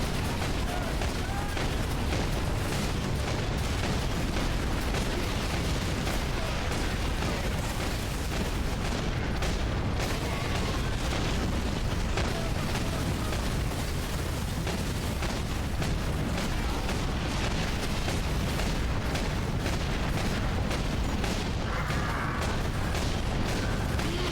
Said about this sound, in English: Okay, I just did not know there's a fucking auto cannon.